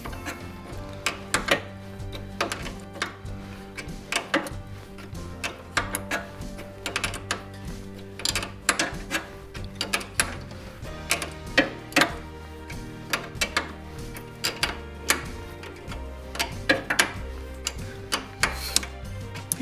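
Nylock nut being run up on the bottom mount of a classic Mini Clubman Estate's suspension, heard as a rapid series of sharp metallic ratchet clicks and ticks in uneven bursts, close by with no talk.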